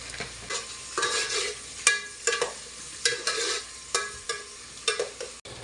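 Cloves, cinnamon, onion and chili frying in a pan, a crackling sizzle broken by repeated scraping stirs in a steady rhythm, close and clear with no voices.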